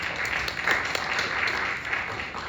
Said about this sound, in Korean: 박수 한번 우리 같이 해주세요.